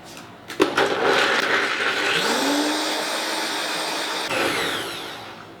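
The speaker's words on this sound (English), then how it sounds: "from now I'm going to add hot waters and blend them all together for our sauce" Countertop blender blending hot water into a raw vegan sauce: a few clunks, then a loud whirring motor that rises in pitch and runs steadily for several seconds, with another surge near the end.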